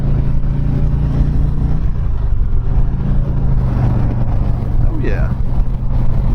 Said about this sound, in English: put this bike out onto the highway. I mean, this bike's the Road King.